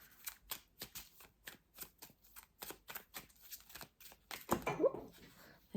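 Tarot cards being shuffled by hand, a quick run of crisp riffling flicks in a steady rhythm, close up, ending in a louder flurry as cards spill, with faint speech underneath.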